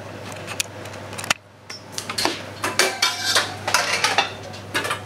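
Metal pan clattering and clinking as it is handled and set onto a kitchen stove while making an apple syrup, with several close, sharp knocks and scrapes at irregular intervals after a brief quiet gap.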